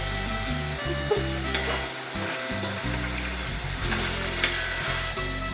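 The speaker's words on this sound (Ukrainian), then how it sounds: "Поки смажиться м'ясо" Chicken sizzles and crackles steadily in a hot pan, with a low hum in the background and occasional small pops.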